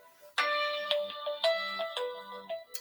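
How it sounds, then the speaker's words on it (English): A phone ringtone goes off in a quiet room: a bright, clear chiming melody in quick repeated notes, moderately loud and alone, with no talk over it. "phone just went off"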